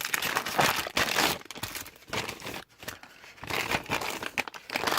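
Plastic and paper packaging of K-pop merchandise (Red Velvet and Wanna One goods) being torn and crinkled open up close, continuous rustling and crackling with a brief pause midway.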